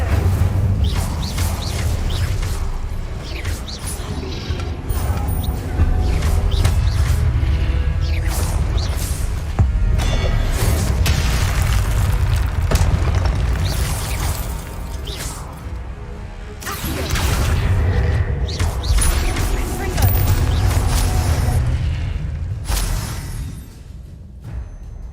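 Incendio fire spell effects in the game Hogwarts Legacy, dense bursts of whooshing flames and crashing impacts that come and go in loud waves over a busy combat mix, with no voices.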